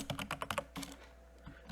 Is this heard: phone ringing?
no